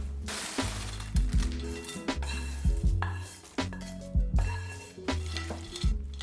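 Salad dressing of mustard, cashew butter, white wine vinegar, olive oil, salt and pepper being stirred in a large mixing bowl. A utensil scrapes and clinks against the bowl in repeated rhythmic strokes, close and clear, with no talk.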